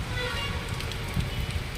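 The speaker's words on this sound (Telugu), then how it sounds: "రాత్రి నుండి ఏకధాటిగా కురుస్తున్న వర్షం ఇది." Heavy continuous rain during a northeast monsoon downpour in coastal Nellore district, Andhra Pradesh, a steady dense hiss with low rumbling wash that stays loud and even, with a few slightly stronger gusts.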